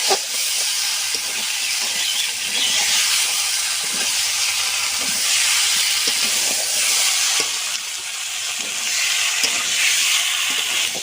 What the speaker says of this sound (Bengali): ডিম সবুজ কপি আলু দিয়ে দেবে একসঙ্গে করে কষে নেব।